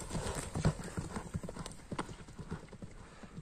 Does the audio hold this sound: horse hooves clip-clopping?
yes